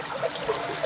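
Water flows in a steady, soft trickle, a brief continuous babble with small gurgling rises and no voices.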